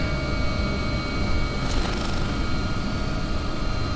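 A helicopter in flight slows down to prepare for landing, giving a steady, loud rotor and engine drone with a faint swell partway through, and no voices over it.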